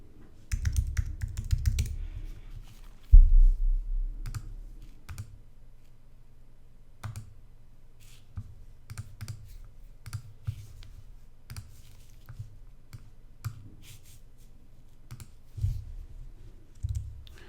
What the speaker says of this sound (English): I'm just using my keyboard shortcuts for copy paste.